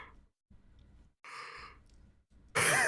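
A person yawns out loud, a drawn-out breathy sigh rising into an open-mouthed stretch, with quieter breaths before it and a louder gasp-like exhale at the end, close to the listener.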